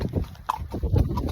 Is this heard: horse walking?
yes